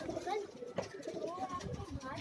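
Pigeons on a rooftop in New Rizvia Society near Safoora Chowrangi, Karachi, coo softly and faintly beneath nearby people talking.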